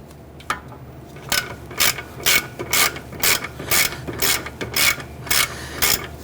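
A ratchet clicks in a steady run of about a dozen loud, close pawl strokes while breaking a caliper bracket bolt free on a 1999-2004 Jeep Grand Cherokee rear brake.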